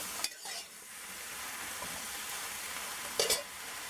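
Eggplant and potato frying in a pot give a steady, close sizzle, with brief stirring scrapes at the start and again near the end.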